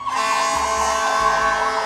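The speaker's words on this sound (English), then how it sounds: "Ambulance be flying by." An ambulance siren wails loud and close as the vehicle passes, its sustained tone steady and bright with a low rumbling pulse beneath, no voices over it.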